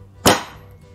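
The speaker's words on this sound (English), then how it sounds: "you have to hit the kick and the hi-hat at the same time" A kick drum and hi-hat struck together on a drum kit: one close, sharp hit with a thump and a bright splash that quickly fades.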